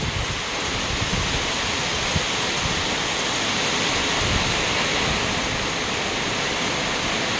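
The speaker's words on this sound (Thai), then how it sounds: "ดูพายุลมแรงขนาดนี้นะคะฝนก็มา" Heavy rain pours steadily with a constant roaring wash, strong gusts blending into the dense hiss; no voices, just the sustained storm.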